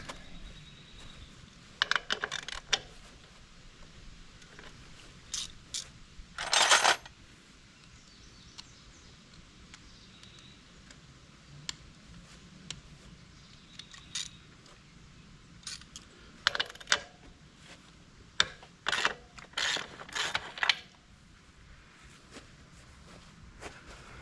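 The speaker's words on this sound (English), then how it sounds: "gonna grab the wrenches and do a quick chain adjustment" Metal wrenches clink and rattle in sharp, scattered bursts as they are picked up for a chain adjustment on a YZ250 motorcycle, fairly close and otherwise quiet, with no talking.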